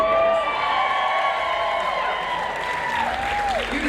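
A crowd at a Knott's Scary Farm panel at Midsummer applauds and cheers steadily throughout, loud and continuous, with a sustained tonal sound running under the clapping.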